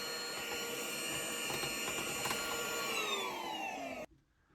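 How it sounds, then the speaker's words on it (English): Small vacuum cleaner cleaning dust from a PS5 console, a continuous high whine with steady tones that slide downward as the motor winds down, then cuts off abruptly, leaving near silence. "you wipe it, then you start using the vacuum right here"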